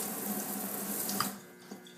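Running tap water pours steadily into a sink while a small Innokin iClear 30 part is rinsed under it, close and continuous, then the flow cuts off partway through.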